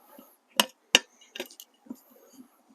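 Screwdrivers prying a riding mower tire bead off its rim, giving a few sharp metallic clinks and scrapes spaced over a couple of seconds, close and fairly quiet, with no talk.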